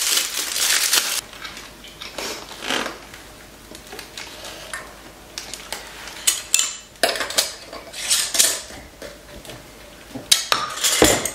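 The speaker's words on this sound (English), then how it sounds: "we'll go ahead and put lids on the rest of these jars, put the rings on" Metal canning lids and rings clink and scrape against glass jars of homemade pasta sauce, bursts of sharp near-field clatter separated by quieter handling pauses, with no talk.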